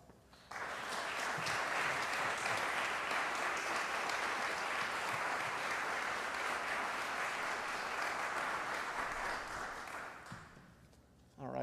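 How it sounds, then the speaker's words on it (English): A congregation at a church worship service applauds educational award recipients with sustained, even clapping for about ten seconds, then the clapping fades out. "let's give one more round of applause to all the educational award recipients."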